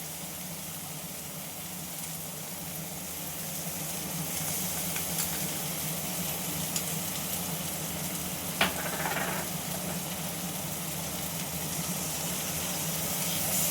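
Prawns with mustard-poppy paste stirred and fried in oil, a broad, fairly faint hissing sizzle holding steady for over ten seconds, with a low hum beneath and an occasional light scrape, no voices.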